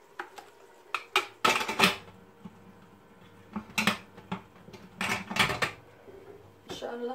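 A lid goes onto a cooking pot of quail with almonds, giving several sharp metallic clanks and rattles in irregular bursts, close by and moderately loud, with faint kitchen background and no speech.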